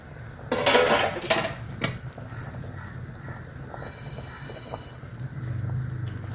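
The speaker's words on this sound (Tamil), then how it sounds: "குழம்பு எப்படி இருக்கும் வந்திருக்குன்னு திறந்து பார்ப்போம்" A metal lid is lifted off a pot of fish curry with mango, giving a short burst of clattering and scraping near the start, followed by a quiet kitchen.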